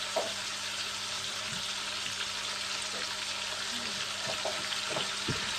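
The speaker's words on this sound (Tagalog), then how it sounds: "lagyan na natin yung sangkadamakmak na kamatis at sibuyas" Tomatoes and onions sautéing with ginger and garlic in a pan for fried pork sinigang, a steady bright sizzle heard close, with occasional faint knocks from stirring.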